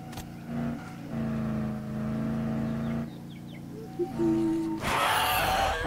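A car drives in a zombie survival video game, its engine droning and shifting pitch as it revs and accelerates, with a brief burst of louder noise near the end.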